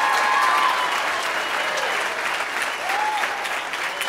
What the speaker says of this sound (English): Give my friend David a big hand clap as he goes back to his seat.